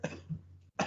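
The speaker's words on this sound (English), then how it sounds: "Trying to get all my coughs and everything out now." A podcast host coughs and clears the throat during a pre-show sound check: two short, close bursts separated by a brief silence, alone with no talk.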